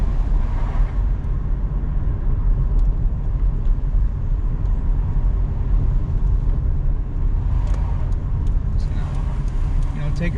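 A freshly rebuilt Toyota 5FSE engine car on a test drive around town, a steady low engine hum and road rumble from inside the cabin, with occasional talking over it.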